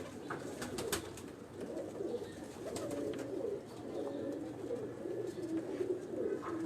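Rooftop pigeons coo steadily in soft, repeated rolling calls, close by, with faint chirps and background noise and no voices.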